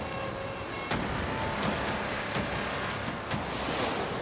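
Ocean waves wash against a remote wild island shore, a continuous broad rush of surf with a few louder breaking swells and some wind buffeting, with no voices.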